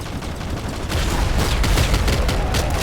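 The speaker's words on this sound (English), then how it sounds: "he's gonna die in one more shot if I can land it" Rapid gunfire from the top-down shooter Nuclear Throne, dense overlapping shots that grow louder and busier after the first second, with a steady game background beneath and no talking.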